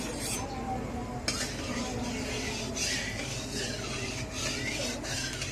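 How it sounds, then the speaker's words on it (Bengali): Whole cumin seeds and whole garam masala frying in oil in a home kitchen, a steady close hiss of sizzling mixed with spatula scraping and the odd metallic clink. "এবার গোটা গোটা জিরে আর গোটা গরম মশলা এটা ফোড়ন দিয়ে দেবো"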